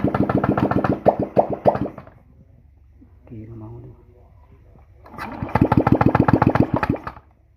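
A Honda Beat motorcycle that would not start is cranked and fires into loud, rapid engine pulses, stops briefly with a lower rumble in between, then catches again and runs close by.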